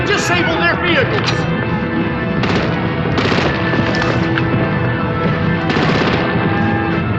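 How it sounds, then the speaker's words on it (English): Heavy gunfire and artillery in the Batman: The Enemy Within game, with rapid bursts and booming blasts continuing loudly throughout while someone shouts briefly over the din. "Break out the artillery and disable their vehicles!"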